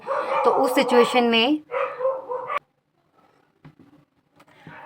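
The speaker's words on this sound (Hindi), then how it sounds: "डॉग बार्किंग की वॉइस आ रही थी ना आपको" Several dogs bark outdoors in quick, loud bursts under someone speaking, then the barking stops and only faint distant sounds remain.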